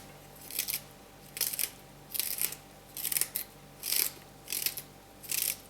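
Celery stalks are cut with a knife in a salad, giving seven evenly spaced crisp crunching chops at close range with quiet pauses between them.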